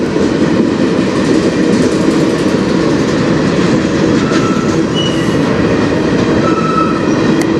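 Government of Canada potash hopper cars roll by on a passing freight train, a loud, continuous near rumble of wheels with faint squeals and rhythmic clacking and no voices.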